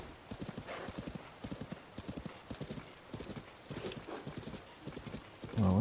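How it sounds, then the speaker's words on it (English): A horse in the Tears of the Kingdom video game clip-clops along in a steady, quick hoof rhythm, and a short neigh follows near the end, all fairly quiet. "just wanted to mount my horse"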